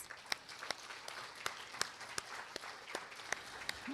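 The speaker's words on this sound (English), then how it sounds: "I think round of applause." Audience at a summer research academy welcome session claps steadily for several seconds, a soft, somewhat distant wash of applause with a few sharper individual claps standing out.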